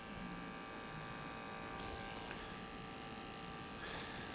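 Electric hair clippers with a longer blade buzz continuously at low level while cutting hair for a mohawk fade, a steady hum with a few brief scratchy touches against the hair.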